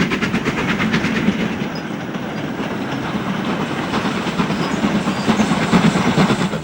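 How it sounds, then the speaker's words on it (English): A train climbs the four-mile 1 in 75 gradient toward Shap Summit. It makes a loud, steady rumble with a rhythmic clatter of wheels and a hissing wash of noise, and no voices are heard. "trains are attacking the 4 miles of 1 in 75 leading up to Shap Summit"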